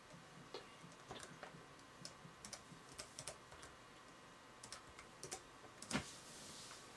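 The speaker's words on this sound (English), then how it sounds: "I'll just type mine in here." Someone types a server IP address on a computer keyboard: soft, irregular key clicks in short bursts with brief pauses, close and fairly quiet, with no speech.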